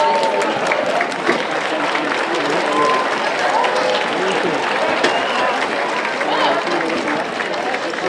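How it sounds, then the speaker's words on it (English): Graduates at a university convocation ceremony applauding their families in the audience, a large crowd's broad, continuous clapping filling a hall, with murmuring voices mixed in. "give them a round of applause as a sign of gratitude for all that they have done"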